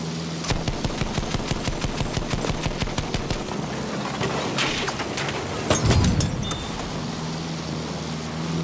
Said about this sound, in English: Anti-aircraft guns, right there.